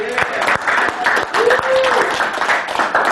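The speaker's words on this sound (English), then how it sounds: "Give him a big round of applause." Audience applause at a public-speaking training session, clapping for a participant after his talk; a room of moderate, uneven clapping with distinct hand claps near by, a voice speaking over it and a brief rising vocal sound partway through.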